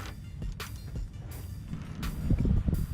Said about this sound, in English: I'm going to use a 13mm wrench at the top to hold the nut, and the 13mm socket at the bottom to undo the bolt.